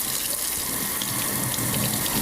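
Cold tap water gushes steadily over boiled pork belly in a sink, a continuous bright splashing rush with no talking.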